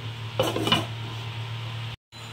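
A spoon clatters briefly against a metal pot as cashew paste is stirred into a chhana bora (soft cottage-cheese fritter) preparation. Two or three close, quick metallic scrapes and knocks sit over a steady low hum, with no talking.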